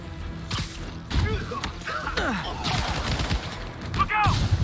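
Bursts of gunfire in the game Marvel's Spider-Man crackle among swooshing effects and thuds, loud and close, with voices speaking over the action.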